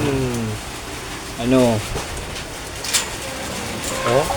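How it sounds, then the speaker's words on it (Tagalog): Steady rain patters as a hiss beneath someone speaking close by, with a few louder splashes. "Umuulan na naman."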